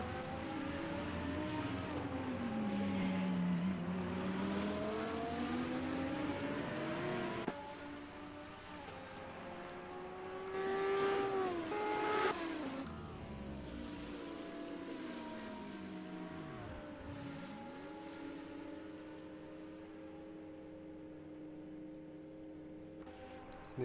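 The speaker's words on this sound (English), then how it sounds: "Get into the pits in the McLaren." A McLaren race car in a sim racing game at the Kyalami circuit: a steady engine whine that rises and falls with gear changes and revving, heard alone at moderate volume.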